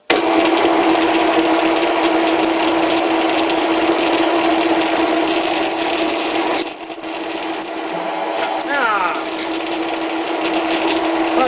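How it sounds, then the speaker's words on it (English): A 12mm drill bit spinning at 350 RPM in a Dremel-style mini grinder tool holder setup gives a steady mechanical whine with a dropout midway, then resumes with brief scraping sweeps. "So this is the second attempt at the 12mm drill bit. Still running at 350."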